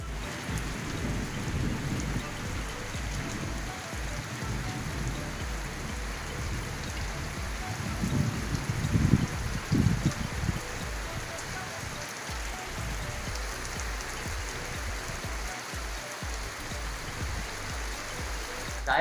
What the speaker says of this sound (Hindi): जब हम खाना खा रहे थे तो अचानक इतनी तेज़ बारिश हो गई कि हमें व्लॉग रास्ते में रोकना पड़ा